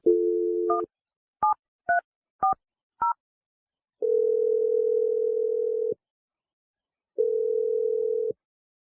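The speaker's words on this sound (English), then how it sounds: "I'm going to dial her number right now." A telephone number is dialed: a short dial tone, then five crisp keypad tones spaced about half a second apart, followed by two long ringback tones separated by a pause, all clean and close.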